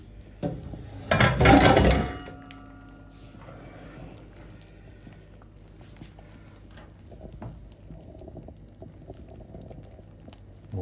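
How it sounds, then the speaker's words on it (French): Flour is tipped into boiling butter in a pot and stirred for choux pastry, giving a loud rushing burst at the start, then a soft, steady bubbling and scraping. "je vais verser la farine d'un coup d'un seul dedans et je mélange"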